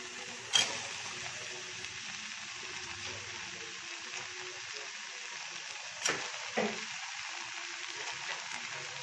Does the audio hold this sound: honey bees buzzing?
no